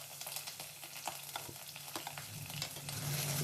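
Curry leaves and onion fry in hot oil for noodles, giving a steady close sizzle with scattered pops and crackles that grows slightly louder toward the end. No one speaks.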